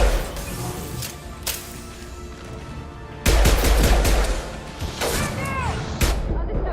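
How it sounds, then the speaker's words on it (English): Rifle gunfire in the video game Mass Effect 2, a few sharp isolated shots early, then a louder stretch of rapid shots and impacts with game effects, mixed with background combat sound. "I love this rifle."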